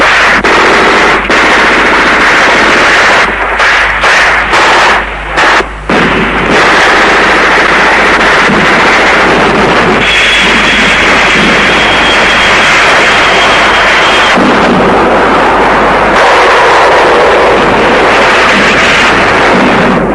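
Heavy artillery bombardment and machine-gun fire from the Biafran war in the Port Harcourt sector, a loud, dense barrage of rapid bursts and booming impacts that runs continuously with no talk.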